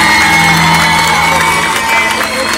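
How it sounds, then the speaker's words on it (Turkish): A large crowd at a rally cheers and shouts in a dense, loud, sustained roar with whoops, continuing without pause throughout. "en güçlü alkışlarımdan birisini istiyorum kendilerine"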